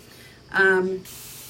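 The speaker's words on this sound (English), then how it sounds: "I'm spraying some water on all of my chalk" A short single burst of water spray from a spray bottle onto chalk used for chalk-transfer crafting, a quick hissing puff lasting about half a second, close and fairly loud.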